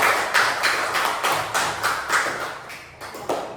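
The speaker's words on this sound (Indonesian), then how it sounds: "tepuk tangan untuk kita semua" An elementary school assembly at SDN Sawangan 3 in Magelang claps in a series of distinct, rhythmic claps, roughly one every third of a second, fairly close and clear with little talk.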